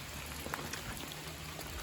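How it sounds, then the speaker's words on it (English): Rain falls steadily on a drained river shoreline as a dense, even hiss with faint scattered drop patters, soft and continuous. "It's starting to really come down now as far as the rain is concerned."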